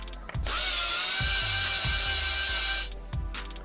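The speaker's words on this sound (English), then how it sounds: "Unscrew the 4 small screws on the bottom" Small screws come out of a first-generation unibody MacBook's bottom cover under a power screwdriver, with a loud, steady whirring for under three seconds, bracketed by light handling clicks.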